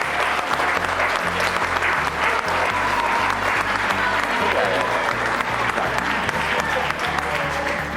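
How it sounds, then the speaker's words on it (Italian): An indoor audience at an evening sports event applauds a group of children with steady, dense clapping that fills the whole stretch and never lets up. Faint crowd murmur sits underneath, but no voices come through clearly. "facciamo un applauso ai ragazzini"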